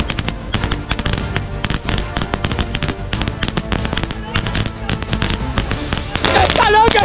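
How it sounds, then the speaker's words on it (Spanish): A long, relentless string of firecrackers pops and bangs in rapid succession, loud and close, ending in a dense crackling burst. "el último petardo es una maldita locura."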